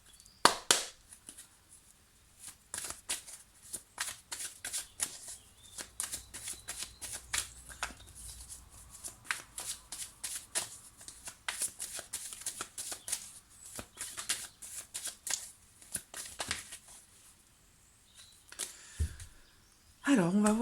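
Oracle cards shuffled by hand for a tarot reading, a long run of quick, soft riffling flicks and taps, close and fairly quiet, with a brief voice near the end.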